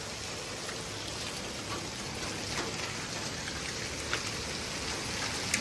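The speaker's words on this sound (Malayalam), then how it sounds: "ഇതാണ് ഐസും മഴയും കൂടെ. ഐസ് മഴ." Rain mixed with hail falls steadily in Malta, a dense continuous outdoor patter with occasional sharper taps of ice striking surfaces nearby.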